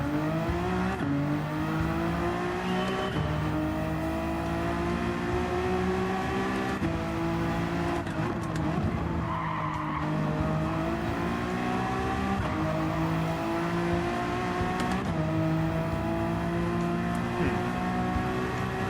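Toyota Supra race cars, old and new models, circling a track in Gran Turismo 7, engines revving loudly and continuously with shifting pitch as they accelerate and overtake, no talk.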